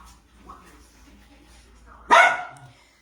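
A rescued dog from a hoarding house gives a single sharp, loud bark close by after a quiet stretch with a soft voice murmuring beforehand.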